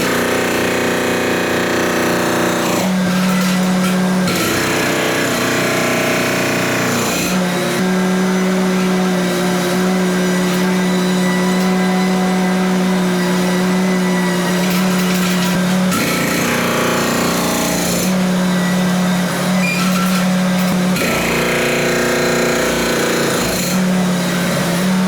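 An MT100 mini skid steer's hydraulic hammer breaks up an interior concrete floor with loud, sustained jackhammer pounding, broken by a couple of brief pauses, an engine drone running steadily underneath.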